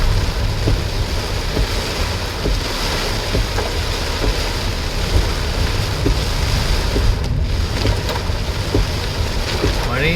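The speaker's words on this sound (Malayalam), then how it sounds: "മഴയും ചെറിയ രീതിയിലുള്ള കാറ്റും ഉണ്ട്." Steady rain and light wind outside a car moving along the Thiruvananthapuram–Chenkottai road through a forest area, with a constant dense hiss, a low rumble and scattered soft drop ticks throughout.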